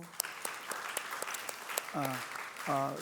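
A church congregation claps during announcements at a Sunday worship service; scattered, fairly faint applause with some distinct claps, joined near the end by a voice speaking.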